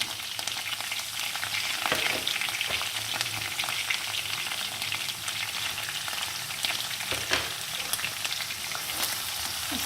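Chicken sizzles and fries with garlic ginger paste in a karahi over a low flame, a steady loud crackle with occasional stirring scrapes and no talking.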